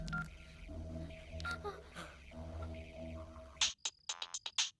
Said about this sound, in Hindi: फोन लगा दो जल्दी से